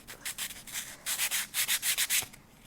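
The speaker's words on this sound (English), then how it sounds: "I actually like to take it and kind of sand it against itself." Sandpaper is rubbed against itself to soften its grit while making mandala earrings, about ten quick, close scratchy strokes in a steady rhythm, with no talking.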